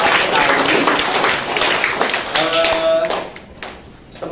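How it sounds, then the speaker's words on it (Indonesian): A group claps together at a cat grooming lesson, a dense burst of applause that fades toward the end, with a voice briefly audible in the middle. "teman-teman tepuk tangan dong, apresiasi"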